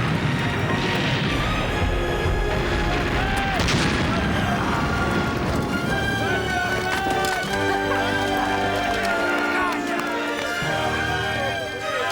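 Ship's cannons firing in a naval battle, heavy booms and rumbling blasts layered with dramatic orchestral music and shouting, dense and loud throughout.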